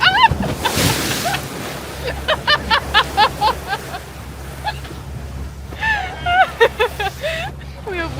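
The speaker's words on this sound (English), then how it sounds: "Oh, big wave!" A big wave slaps against a sailboat under headsail in Norway, a broad rush of water and spray amid steady wind and hull noise, with excited voices and laughter over it.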